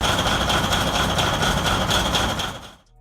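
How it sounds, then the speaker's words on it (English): A mining dump truck engine starts up with a loud, steady, high-pitched whir over a dense rumble, holding for under three seconds and then cutting off abruptly, with no voices. "When the ignition is turned on, the mining dump truck engine gives off a high-pitched whirring sound"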